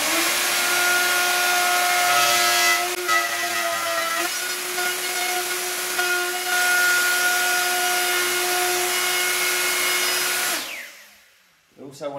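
A plunge router runs with a loud, steady whine as it cuts into melamine-faced birch for a door finger-pull, holding a constant pitch for about ten seconds before spinning down.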